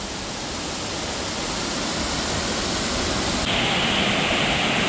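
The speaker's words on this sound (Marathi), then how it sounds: "हा इथे हा मोठा धबधबा आहे आणि हा इथे एक धबधबा आहे" A large village waterfall roars as a constant, dense, close-up wash of falling water, unbroken and loud throughout.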